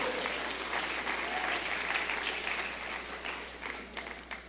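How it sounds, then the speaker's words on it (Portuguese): Church congregation applauding during a Portuguese-language service, a full, steady roar of clapping from many people with faint cheers mixed in, holding loud and even before easing slightly at the end. "Quem recebe, dê um aplauso, dê um grito de glória a Jesus."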